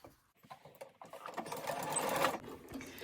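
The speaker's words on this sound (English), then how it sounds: "I'm going to go ahead and sew this side down." A sewing machine stitching quilt block pieces starts with a few hesitant taps, then speeds into a steady whirring run before easing off, close and alone.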